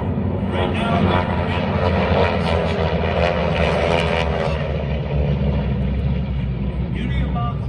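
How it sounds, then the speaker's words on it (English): A T-6 Harvard class race plane at the National Championship Air Races in Roswell, New Mexico, a loud propeller engine roar sweeping past close by, steady for several seconds, with an announcer's voice underneath. "Coming down the line now, first should be in the blue airplane, Lee Ullman, holding a pole position."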